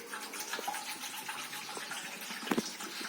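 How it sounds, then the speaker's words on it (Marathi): One litre of water pours into a container while a cotton seed germination treatment is being prepared: a steady splashing gush with a couple of louder sloshes near the end. "1 लिटर आपण पाणी घेत आहोत"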